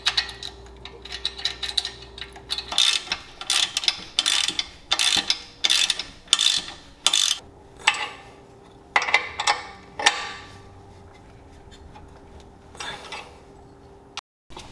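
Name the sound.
putting a washer and nut on a Jeep suspension bolt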